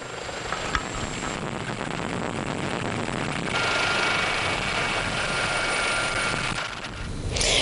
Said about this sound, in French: hélicoptères bombardiers d'eau